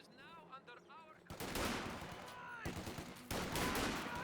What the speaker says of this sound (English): Pioneers taking some fire there from the rifleman squad